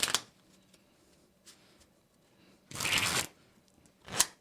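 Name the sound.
shuffling a deck of playing cards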